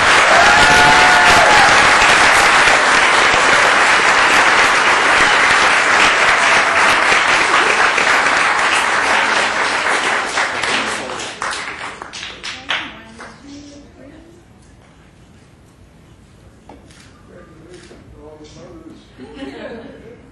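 An audience at a Boy Scout Life Saving Award ceremony claps loudly and steadily for about ten seconds, then the applause thins to scattered claps and fades into quiet murmurs and a few light taps.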